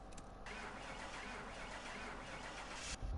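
Car engine running in Car Mechanic Simulator 2021, an engine in poor condition sounding low on power, droning steadily and loudly throughout with a brief surge at the end.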